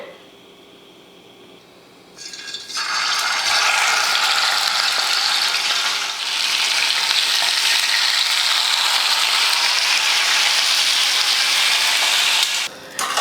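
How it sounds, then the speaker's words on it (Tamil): Tandoori chicken, already steamed, frying in about two ladles of oil in a pan, giving a loud, steady sizzle that starts abruptly after a quiet moment and holds strong until it briefly drops near the end. "இப்போ இதை கொஞ்சமாக எண்ணெய் ஊற்றி வறுத்துக்கலாம்"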